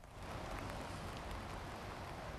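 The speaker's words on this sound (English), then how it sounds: "It's pouring with rain" Heavy rain pours steadily outdoors as a soft, even, broadband hiss with no breaks, fairly faint and without voices.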